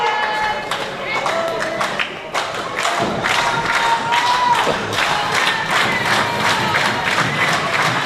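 Wrestling crowd cheering and shouting loudly and continuously in an arena, with scattered claps and thuds, and a commentator's voice layered over the noise.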